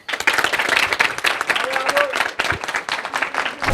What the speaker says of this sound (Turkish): O zaman Elif alkışlarla uğurlayalım